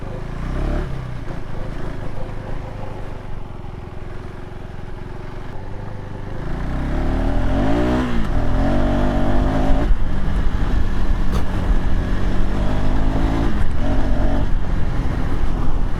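A 2025 KTM 390 Adventure X motorcycle idles low, then its engine swells into a loud, steady drone as it pulls away and keeps running close by, with no voices.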